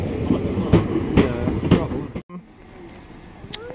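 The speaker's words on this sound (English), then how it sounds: "Another train comes, blocks it out." A train passing near the Eastbourne line where the steam locomotive Mayflower 61306 runs, with loud rhythmic clattering bursts that cut off abruptly, then quieter ambience with a faint squeal.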